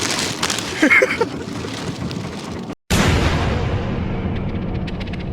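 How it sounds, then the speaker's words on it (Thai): Steady rain hisses and patters continuously, broken by a brief near-silent gap, with faint voices and rustling early on. "ตกไม่เยอะหรอกฝนอ่ะ"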